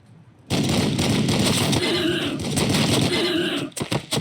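Units fire their guns in the Warhammer 40K Battlesector video game, a dense, loud volley of rapid gunfire that runs steadily for about three seconds and then breaks into a few scattered final shots.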